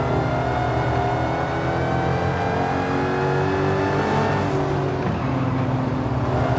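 A Dodge Challenger SRT Demon in the Forza racing game revs hard, its engine note climbing in pitch for several seconds before dropping sharply at a gear change and pulling again, loud and continuous with no talking.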